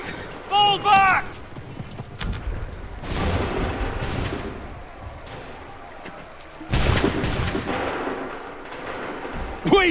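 Musket volleys and booming cannon fire in Assassin's Creed 3 crack out in loud, irregular bursts over a rumbling battlefield, with shouted voices in between.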